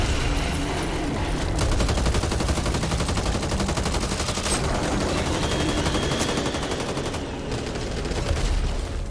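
Rapid automatic gunfire in the co-op zombie shooter Back 4 Blood, a dense continuous stream of shots with loud, steady bursts filling the whole stretch and no voices over it.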